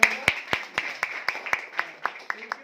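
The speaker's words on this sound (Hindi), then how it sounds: "एक बार ताली बजाओ इनके लिए" Clapping in a gathering in Kota, Rajasthan: about a dozen sharp, evenly spaced claps in a steady rhythm, fairly close and clear, with little else around them.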